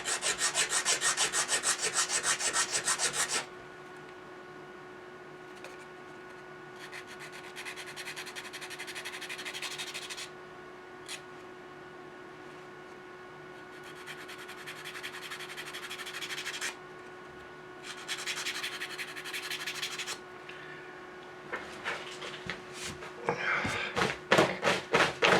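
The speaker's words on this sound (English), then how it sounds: "need to sand a bit more" A wooden model Viking drakkar boat is sanded by hand with a steady scratchy rubbing in repeated strokes, loud at the start, then in quieter bursts separated by pauses.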